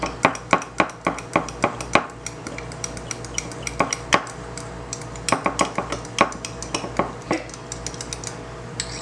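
A spoon stirs spicy ketchup dipping sauce in a bowl, giving rapid clinking and scraping taps in uneven bursts, close and fairly loud, with no talk.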